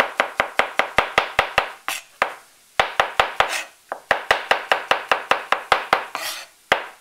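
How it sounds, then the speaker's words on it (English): Knife chopping food on a cutting board for beef and mushrooms: rapid, evenly spaced sharp knocks in several quick bursts separated by brief pauses, close and loud with no talk. "Cut a flat side and roll it over. And then just chop."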